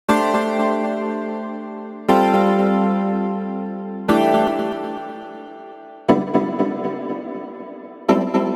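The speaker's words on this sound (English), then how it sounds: "Here's a nice melodic plucked string sound. I'll play it as is" Melodic plucked string preset from the Chromaphone 2 synthesizer: five bright, ringing plucked notes about two seconds apart, each striking sharply and then decaying slowly with rich overtones.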